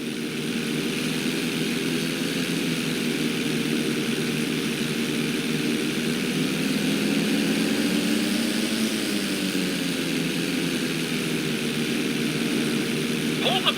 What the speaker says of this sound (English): Okay, roll the plane upside down.